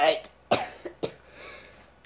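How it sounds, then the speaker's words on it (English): A few sharp, close coughs come in quick succession, two or three bursts spaced about half a second apart, with a voice briefly present. "That was a cough."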